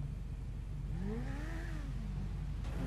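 Engine revving in GTA V roleplay: a single vehicle climbs in pitch through a rising rev, peaks, then eases off over steady low rumble and background noise, with no talk.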